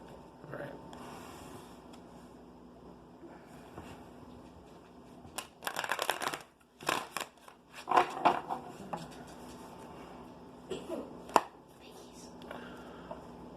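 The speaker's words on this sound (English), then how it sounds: "I'm going to go ahead and shuffle again" Native Spirits Oracle cards being shuffled by hand give soft, papery bursts of riffling in a few short clusters, quiet and close, separated by stretches of near silence.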